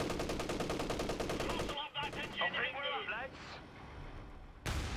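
Rapid rhythmic volleys of observer artillery and gunfire in Company of Heroes 3, loud and continuous, with voices talking in the middle before a final heavy burst returns.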